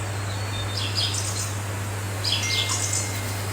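Yellow parrots chirping in two clusters of bright, high tweets over a steady low hum, moderately close.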